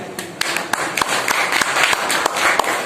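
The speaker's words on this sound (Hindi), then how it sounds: "हम ताली बजाएंगे हरिनारायण भाई के लिए।" People at a meeting clap together, a light round of sharp, uneven handclaps at close range, keeping a loose rhythm for a few seconds.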